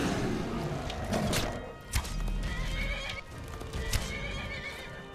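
A horse in a video game neighs and whinnies over clip-clopping hooves, loud and close, with a few dull thumps and no talk.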